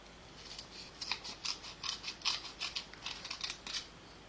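Scissors cutting along the edge of a piece of material in a quick series of crisp, close snips, about a dozen in a row over a faint background, with no talking.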